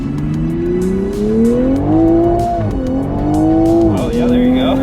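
A tuned 2020 Toyota Supra launches hard, its engine note climbing in rising harmonic sweeps through quick upshifts, loud and close, with a brief tire chirp near the end and faint voices underneath.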